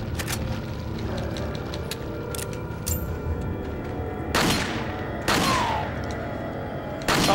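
Gunfire hits an enemy in Resident Evil 4, two heavy booming shots spaced about a second apart, each with a bright crack and decaying tail, over a busy low game backdrop.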